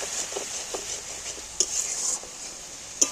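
Spices for an egg and red lentil curry being stirred and sautéed in a pan, with a faint steady hiss under it and a few sharp clinks of the spoon striking the rim, close and fairly loud.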